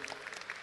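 A lecture audience on a campus applauds briefly, a short faint patter of many hands clapping at a distance that fades out within a second.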